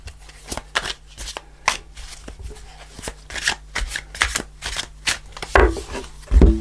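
Tarot cards being shuffled and one card drawn from the deck, a series of close, crisp riffling bursts and soft flicks with irregular pauses and a few louder handling thumps near the end.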